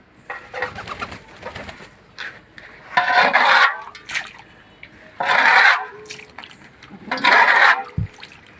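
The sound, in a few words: pigeons bathing and splashing in water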